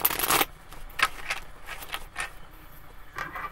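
Tarot cards shuffled by hand, a quick burst of riffling followed by several short choppy card flicks at close range, no talk.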